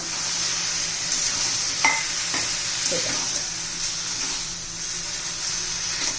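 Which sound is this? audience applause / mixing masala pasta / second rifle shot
mixing masala pasta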